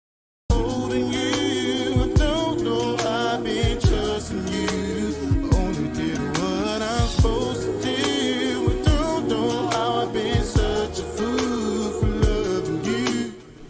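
A looped 90s R&B music sample with chopped vocal fragments over a steady beat and bass, played loud and continuous without talking.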